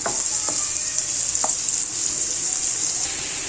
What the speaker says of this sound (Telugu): ఇవి కొంచెం గోల్డెన్ బ్రౌన్ వచ్చే వరకు వేయించుకోవాలి.